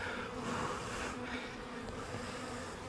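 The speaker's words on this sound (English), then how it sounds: "A lot of baby bees in there." Steady, dense buzzing of many bees in an opened backyard hive, close and continuous, with no voices.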